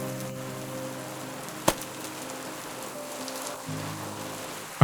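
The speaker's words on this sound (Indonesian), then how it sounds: "Hutan gelap, hujan deras." Heavy rain in a dark forest in an animated folk tale, a steady soft patter under a low sustained musical drone, with a sharp knock partway through.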